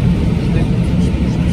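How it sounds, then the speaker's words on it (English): Steady, loud low rumble of an Icelandair Boeing 767 landing on an Antarctic ice runway, a continuous dense engine and rolling roar with no pauses. "Watch this amazing view of an Icelandair Boeing 767 landing on an ice runway in Antarctica."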